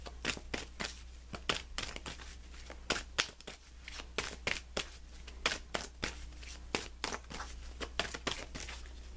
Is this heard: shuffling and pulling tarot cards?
yes